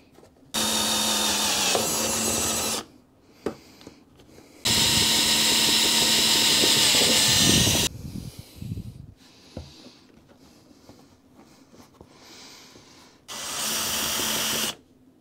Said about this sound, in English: Run the drill bit backwards to cut the headliner first.